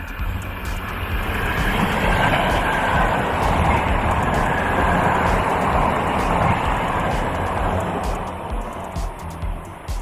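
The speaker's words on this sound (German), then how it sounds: "Tja, ob das jetzt die Regionalbahn war oder die S-Bahn" A regional train or S-Bahn rushes past beside a riverside cycle path between Au (Sieg) and Hennef, a loud, sustained roar that swells and fades over about ten seconds, with wind noise.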